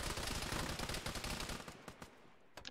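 Rapid bursts of loud automatic gunfire in a military shooter game, a dense rattling volley that thins into a few separate shots near the end.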